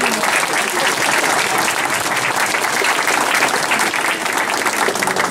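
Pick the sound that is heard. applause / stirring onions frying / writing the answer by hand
applause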